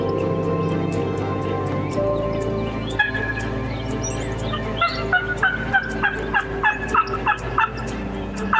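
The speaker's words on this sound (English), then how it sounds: "have several turkeys answering the call from the far side of the field" Wild turkeys gobble repeatedly from the far side of a field in Georgia, a rapid rattling series of calls echoing across open ground over a steady low background hum.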